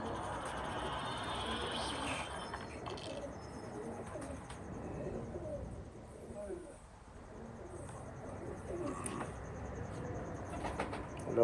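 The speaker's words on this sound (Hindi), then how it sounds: "पूरे पॉइंट्स वाला कबूतर है जी ये माशाल्लाह जी।" Laal Pari pigeons coo softly amid faint wing flutters and light chirps in an outdoor loft, with someone talking quietly through much of it.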